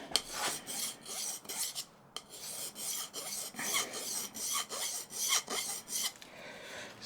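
Plane iron from a smoothing plane being sharpened on a finer-grit stone: steady, repeated raspy strokes rubbing back and forth in a close, even rhythm with brief pauses between passes.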